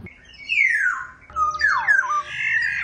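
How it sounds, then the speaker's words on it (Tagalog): A bird gives two loud, descending squawking calls, close by, each sliding down in pitch, with a faint steady hum underneath, recorded in Capalonga, Camarines Norte, Philippines. "Huni kasi ito ng isang ibon."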